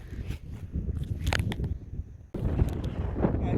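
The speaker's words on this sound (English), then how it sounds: "Got a bit windy" Wind buffets the microphone on a countryside walk near Hill Barn and Sompting, a low, uneven rumble with a brief drop partway through before it gusts up again.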